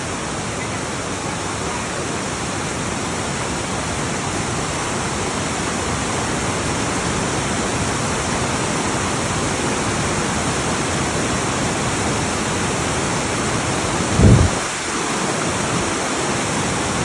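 Cold alpine river water rushes steadily at a river crossing on the Tour du Mont Blanc trail, a loud, continuous roar with one brief thump partway through.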